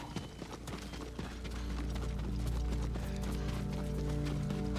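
Horse hooves clip-clop steadily in the Ghost of Tsushima video game, a continuous rhythmic trot under a low rumbling backdrop of game ambience, with no talking.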